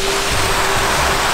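Small waterfall on a tor, a steady close rush of falling water forming a dense, even hiss with no breaks.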